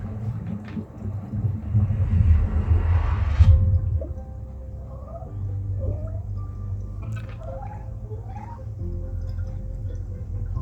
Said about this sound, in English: I can hear from the center the bubbles rising and rising